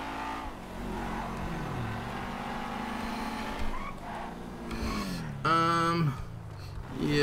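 A car in GTA 5 drives with a steady engine hum, shifting in pitch as it revs and changes speed, with a bump and a brief rattle near the end.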